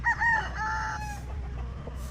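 Gamefowl stags crow on a game farm range area, with one clear cock-a-doodle-doo near the start followed by fainter distant crowing over a steady outdoor background.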